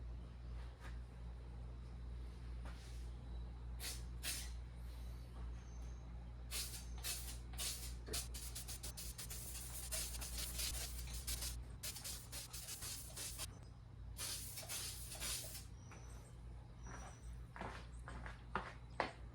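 Spray paint hisses in a light coat over an FJ Cruiser grille, coming in repeated short bursts and longer passes of broadband hiss, fairly quiet over a low constant background rumble.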